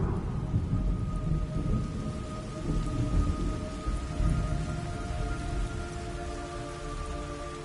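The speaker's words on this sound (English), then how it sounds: "It's raining blood." A steady rain pours down in a video game's hellish scene, with low thunder rolling through the wash of rain and faint sustained tones above it, and no voices.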